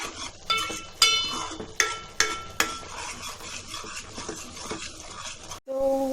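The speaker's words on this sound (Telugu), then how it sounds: "సో చూసారా ఫ్రై అవుతుంది, ఇంకొంచెం ఫ్రై అవ్వాలి" Masala frying in oil in a home kitchen pan, with repeated sharp clinks and scrapes of a utensil stirring against the pan over a steady background sizzle, ending with a brief different tone.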